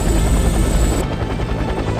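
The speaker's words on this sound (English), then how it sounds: "A cat helicopter? Where do they buy these things?" A cat-shaped helicopter in the Batman: The Brave and the Bold video game drones with steady, dense rotor noise, loud and continuous throughout, with no one speaking.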